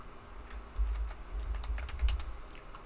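Computer keyboard keys clatter close by in quick irregular bursts while an email address and password are typed, over a low background hum.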